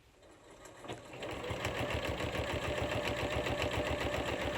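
A sewing machine starts up and stitches steadily, its rapid needle rattle speeding up and holding a fast, even rhythm close by.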